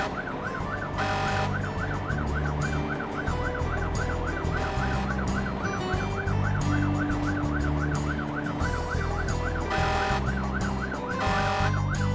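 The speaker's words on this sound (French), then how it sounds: "Un camion de pompiers." A toy fire truck siren wails continuously in a fast, looping electronic warble, loud and close, with a steady rumbling backdrop and no voices.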